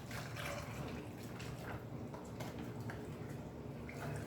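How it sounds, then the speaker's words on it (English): Watery liquid hand-cast mixture pours and trickles steadily for several seconds, a soft continuous splashy flow close by with no talking. "I guess just pour it on top and let it run in."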